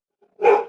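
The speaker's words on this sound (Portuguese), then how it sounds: "pedindo para a cachorra parar de latir" A female dog barks once in the background, a single short, fairly loud bark heard alone with no talk over it.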